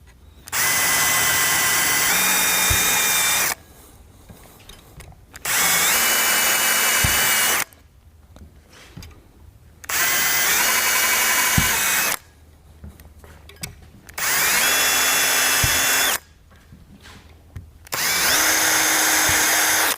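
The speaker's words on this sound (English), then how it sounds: "let's go ahead and start pre-drilling some installation holes" A power drill pre-drills installation holes in a shutter frame for a bypass track system, running in five separate bursts of a few seconds each with short quiet gaps between, loud and close, with no talk.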